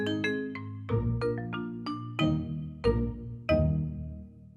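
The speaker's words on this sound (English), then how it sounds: "You call it by ringing this bell." A cartoon bell on a Peppa Pig riverbank is rung to summon Grampy Rabbit's rowing boat, giving a bright run of about a dozen quick chiming strikes that build to several louder, ringing notes, clear and alone.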